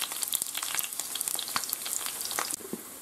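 Garlic and chili pepper fry in hot olive oil with a dense, crackling sizzle and sharp pops, close and steady throughout before easing slightly at the end.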